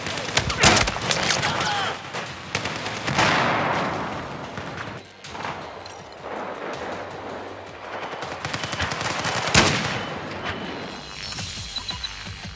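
Battlefield 4 firefight with heavy gunfire and a grenade blast, sharp repeated shots and louder bursts spread across the clip, with a voice briefly audible in the mix.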